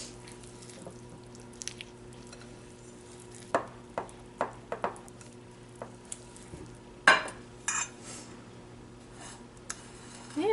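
Brownie mix stirred in a bowl, quiet wet squishing and a handful of sharp spoon taps against the side over a low steady hum, with no voices.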